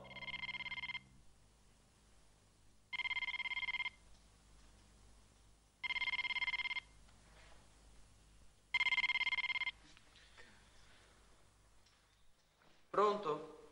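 A business telephone rings in four separated bursts of bright electronic trilling, evenly spaced with quiet gaps between, followed by faint handling sounds and a short clatter at the end.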